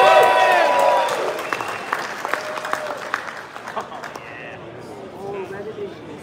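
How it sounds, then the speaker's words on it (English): A crowd applauds at the Hot Wheels Nationals 2024 sneak-peek presentation. The dense clapping and cheering swells at first, then thins into scattered claps while a presenter keeps talking loudly over it. "Let's hear some applause"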